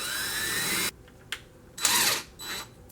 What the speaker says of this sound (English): drill the second hole where I want it